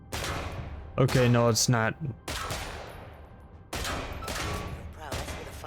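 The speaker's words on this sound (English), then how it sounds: "Now, shoot the targets." Video game sidearm firing at shooting targets: a series of sharp, close shots in separate bursts with short gaps, a voice briefly speaking between them.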